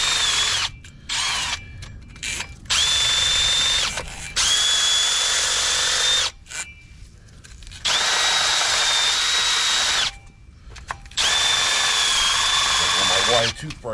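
A drill spins a wire brush against the rusty brake hub face of a Chevy Suburban, Tahoe, Yukon or Silverado, whining in several loud bursts separated by brief pauses, close up.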